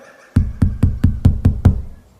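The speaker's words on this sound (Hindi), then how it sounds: "काफी देर तक दरवाजा पीटने के बाद भी जब शुभम ने दरवाजा नहीं खोला" Pounding knocks on a guest house door in a horror story setting, seven heavy evenly spaced bangs in quick succession, loud and close with no voices.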